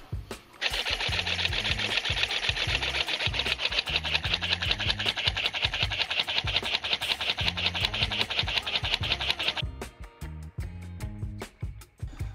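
A small 3D-printed air compressor driven by a little motor, wearing itself in, chatters with a fast steady mechanical rattle close by for about nine seconds, then stops and gives way to quieter irregular knocks.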